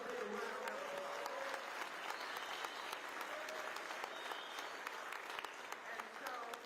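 Faint, distant audience applause at a Lakers ribbon-cutting ceremony honouring someone: steady crowd clapping that continues throughout, with a voice speaking over it.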